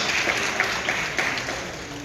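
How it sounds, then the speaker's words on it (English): Steady applause from a crowd at an awards ceremony, sustained at a moderate level throughout with a dense, even patter and no voices standing out. "Can you give her an applause?"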